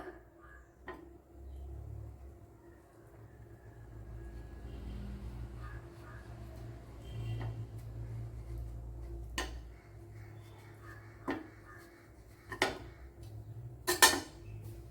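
A ripe mango sweet mixture is stirred in a pot, giving a soft, quiet scraping that ends in a few sharp metallic clinks and knocks of the utensil against the pot.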